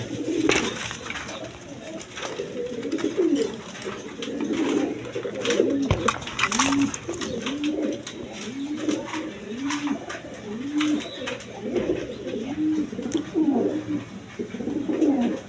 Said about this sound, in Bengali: এইখানে এক পেয়ার বোম্বাই কবুতর আছে দেখেন